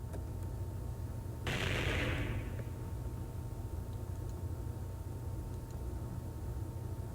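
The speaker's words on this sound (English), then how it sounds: "Confound it! More explosions!" Explosions from the Hatoful Boyfriend Holiday Star video game: a sudden loud burst of blast noise that decays over about a second, set against a steady hissing background.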